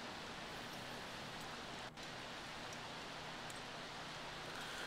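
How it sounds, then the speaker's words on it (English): Steady rain falls in The Sims 3, a soft, even hiss of drops that runs unbroken and faint throughout, with only a momentary dip partway through. "Ah, it's beginning to rain."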